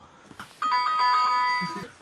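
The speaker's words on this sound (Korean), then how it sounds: "저녁 시간 평소와 다름없는 시간을 보내고 있는데 초인종이 울렸어요." A bright electronic apartment doorbell chime rings once, sustained for about a second, with faint background noise before it.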